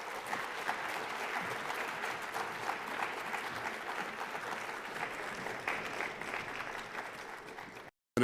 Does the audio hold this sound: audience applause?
yes